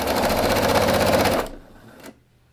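A sewing machine runs at steady speed stitching quilt binding strips together with a quarter-inch seam, a loud continuous whirring rattle for about a second and a half, then stopping, followed by a brief faint mechanical clunk.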